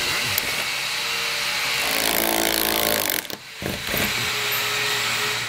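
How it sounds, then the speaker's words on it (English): A power tool with a 10mm socket drives out fasteners on a 2020 Tesla Model during a hidden hitch receiver installation, a loud continuous whirring with a short pause partway before resuming. "let's go ahead with our 10mm and get all these removed"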